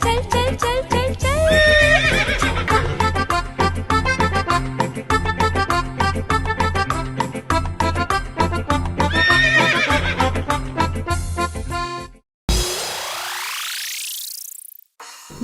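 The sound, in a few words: horse neighing and hooves clip-clopping in a kids' rhyme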